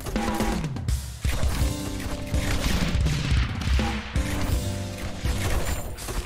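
Mortar towers fire in the tower defense game Rogue Tower: dense, loud volleys of booming blasts and crashes layered over constant game music and effects, with no pause.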